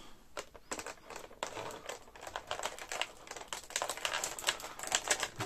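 Scissors cut open plastic toy packaging: a quiet, close series of irregular crisp snips and clicks, with faint crinkling between them.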